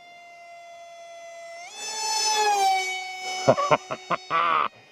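An FPV drone with a Hawksky AT2306 II 2750 Kv motor and 6x3 prop on 3S, a close, loud, tonal motor whine that jumps in pitch to full throttle, then cuts out and back in with several short bursts.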